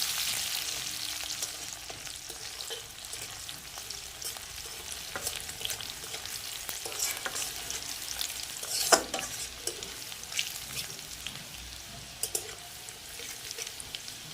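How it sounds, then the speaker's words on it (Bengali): Onions fry in a pan until browned, giving a continuous close sizzle broken by scattered spatters and stirring scrapes, with no talk. "পেঁয়াজটাকে লাল লাল করে পুরো ভেজে নেব।"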